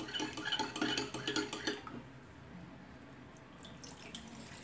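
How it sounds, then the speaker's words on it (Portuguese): A spoon clinks and scrapes rapidly against a bowl while a cornstarch hair mask mixture is stirred, loud and close for about two seconds. After that only faint, quiet handling sounds remain. "vamos misturar aqui essa maizena"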